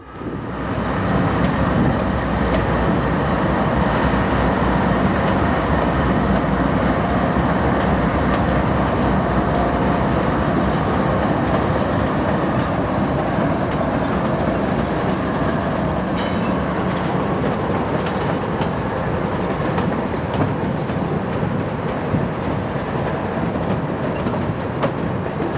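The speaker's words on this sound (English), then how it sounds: "11K pulls the rest of his train into Conway." A long freight train rolls steadily past on the rail line into Conway, a loud, continuous rumble with clattering wheels and cars that holds close and steady, with no voices.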